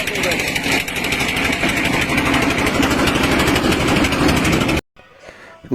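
A trawler boat engine running at sea between Nijhum Dwip and Monpura island, a loud, steady rapid chugging drone close by that cuts off abruptly near the end.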